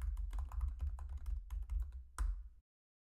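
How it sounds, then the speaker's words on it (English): A computer keyboard clatters with rapid, close key taps in quick irregular bursts as a short test message is typed, ending in a firmer keystroke before stopping abruptly into silence. "let's type in a test message."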